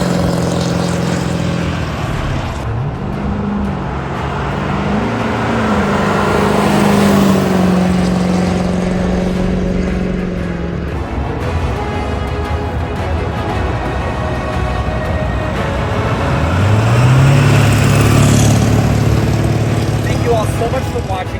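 Ford 7.3 Powerstroke diesel truck fitted with an MBRP exhaust, heard driving with a low rumbling engine that swells twice as it revs, steady throughout.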